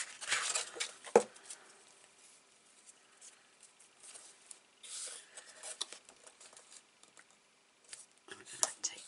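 Scissors snip and crunch through strong adhesive tape on a paper-craft album in uneven, close bursts with quiet gaps between, punctuated by sharp clicks and rustles.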